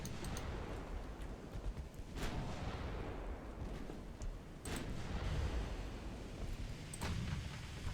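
Naval gunfire in the battleship game Ultimate Admiral Dreadnoughts: a low, rumbling stream of distant booming shots with a few sharper reports, moderately quiet and continuous, no speech.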